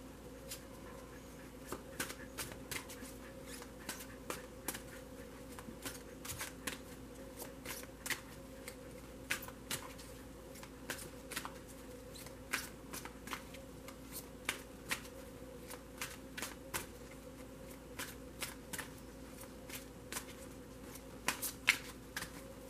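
Oracle cards are shuffled by hand in a steady run of soft, crisp riffling taps and flutters for a daily tarot reading. The sound is close and quiet, with no talk.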